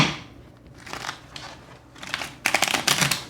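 Cards are shuffled in a few quick, papery bursts, growing louder and crisper toward the end.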